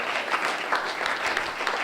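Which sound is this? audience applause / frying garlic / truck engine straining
audience applause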